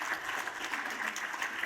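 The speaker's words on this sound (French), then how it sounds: "merci beaucoup, Madame Codin, on peut l'applaudir, c'était impressionnant" An audience at a conference on corporate social responsibility strategy applauds, with steady, dense clapping from many hands heard throughout the clip at moderate volume.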